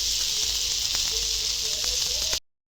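Oil hisses steadily around a bottle gourd dhapate flatbread cooking on a griddle, a close, even sizzle with faint pops that cuts off abruptly at the end.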